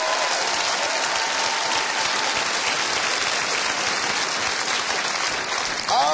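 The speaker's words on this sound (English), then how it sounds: "Give him a round of applause" Sustained studio audience applause on the Irish dating show Take Me Out fills the whole stretch, dense and steady clapping without a break.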